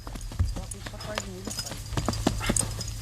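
Mule hooves clip-clopping as the animal steps sideways, crossing its legs during a lateral move, several light irregular hoof strikes close by with people talking over them.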